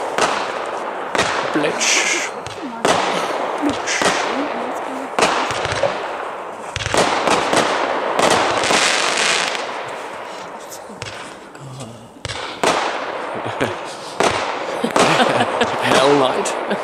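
Fireworks launched at a cellar pre-shoot event at SWM Nürnberg, a rapid string of loud bangs and crackling bursts at close range continuing throughout, with people talking over the blasts.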